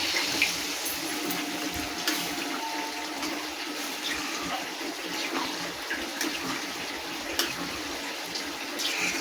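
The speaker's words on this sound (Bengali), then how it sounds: "তো আমি একটু জল দিয়ে দিলাম" Water is poured steadily and continuously into a pot of bottle gourd dal, close and unbroken, with no talking.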